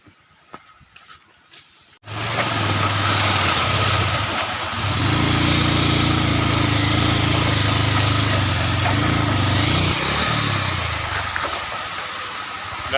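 A vehicle engine labours loudly and steadily on a rough, badly damaged road to the Shiva Jatta waterfall near Dharan, its drone rising and falling over about eleven seconds after a quiet opening.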